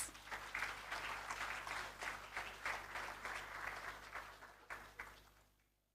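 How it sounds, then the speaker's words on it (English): A modest audience claps steadily at a regional awards ceremony as a guest speaker walks to the podium, the applause in pulsing waves that taper off to quiet near the end. "A round of applause."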